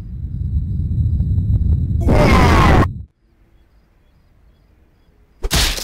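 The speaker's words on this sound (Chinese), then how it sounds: "卫星炮。" A satellite cannon blast from the video game Henry Stickmin hits as a loud, roaring broadband explosion lasting under a second, after a low rumbling buildup. A brief silence follows, then another sharp burst begins at the end.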